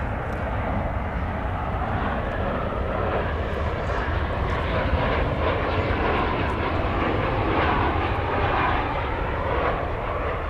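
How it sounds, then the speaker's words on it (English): American Airlines Boeing 737-800 landing at DFW Airport after a flight from Guadalajara, its jet engines a steady, loud broadband roar that holds evenly throughout with no pause or letup. "Coming in from Guadalajara, flight 1174, 737-800, American Airlines."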